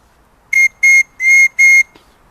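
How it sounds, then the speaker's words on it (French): Four loud, shrill whistle blasts from a homemade water-filled bird whistle, each about a quarter second long, sound close by with short gaps between them. "un sifflet à oiseau, tout simple"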